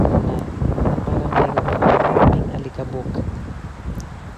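Strong storm gusts in Dubai roar and buffet the microphone continuously, rising to a peak midway before easing slightly, with muffled voices faintly underneath.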